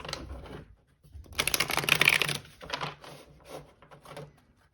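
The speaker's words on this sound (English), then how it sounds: "let's do one final shuffle" Tarot cards riffle-shuffled close by, a fast crisp burst of flapping and clicking, then a few softer shuffles and taps as the deck is squared.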